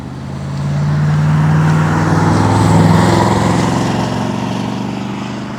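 A 1967 Pontiac LeMans with a 326 small block V8 idles steadily nearby, a deep, even rumble with a smooth low throb that swells slightly and holds for several seconds with no talking.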